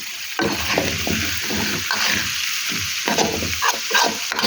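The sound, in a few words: stirring taro and squash in a cooking pot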